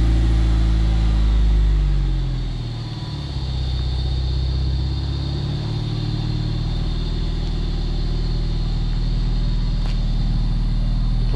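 A Mazda Miata with a newly installed mid pipe runs nearby as it backs up, the engine note dipping briefly and then settling into a steady, loud low rumble.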